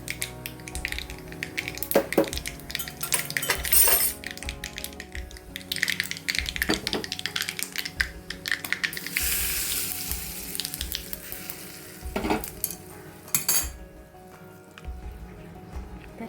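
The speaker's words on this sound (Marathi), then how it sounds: "ही फोडणी आता आपण ह्या बॅटरवर घालूया" Hot oil tempering of mustard seeds, cumin, cumin powder and turmeric is poured onto besan chilla batter, bursting into loud, crackling sizzles that surge and fade over several seconds, mixed with occasional utensil clatter.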